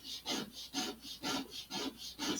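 Sandpaper rubs back and forth over balsa wood on an Estes Black Brant XII model rocket in about six steady, even strokes, close and moderately loud.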